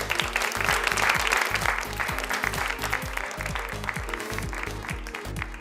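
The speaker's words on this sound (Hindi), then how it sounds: "जोरदार तालियां हो जाए। Everyone put your hands together." Audience applause at a textile fair, a dense, sustained burst of clapping from a crowd that carries loudly throughout, with music playing underneath.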